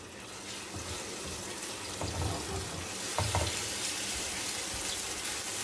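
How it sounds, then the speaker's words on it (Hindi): Garlic-ginger paste fries in hot oil in a pan over medium heat, giving a continuous close sizzle with a few soft stirring scrapes and no talking. "1 मिनट के लिए इसे हम फ्राई करेंगे हल्का सा"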